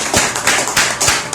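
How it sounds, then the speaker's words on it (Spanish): A church congregation claps together in a steady rhythm, about four broad, loud claps in quick succession, with no talk over them. "Démele fuertes palmas al Señor"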